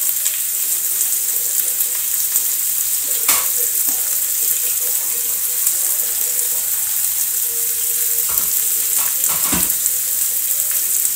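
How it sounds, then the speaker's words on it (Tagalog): Fried milkfish (bangus) sizzles steadily in a pan, a continuous hiss with a few brief clinks and stirring knocks, close and moderately loud with no talk. "Then, ilagay na natin si bangus na prito."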